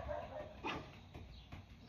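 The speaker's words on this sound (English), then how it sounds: "My dogs are barking at the" Several dogs barking at a cat indoors, with faint, muffled barks and yips scattered over a couple of seconds, distant and low under a steady background hiss.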